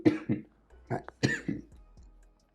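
Person with a lingering cough from a recent illness coughing and clearing the throat in a rapid series of harsh, close bursts, several in a row with short gaps, and no speech.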